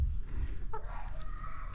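A hen gives a short cluck over a low rumbling background in an aviary, brief and moderately close.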